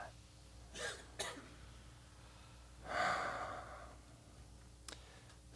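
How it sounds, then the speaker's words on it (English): A congregation at a Sunday church service draws deep breaths together, with two soft inhales early on and a longer, fuller swell of collective breathing in the middle, all faint and without speech. "Let's take a deep breath into that."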